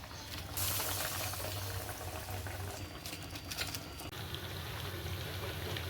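Masala vadas frying in hot oil: a steady, loud sizzling and bubbling that continues throughout, close up, with brief clattering near the middle and no talking.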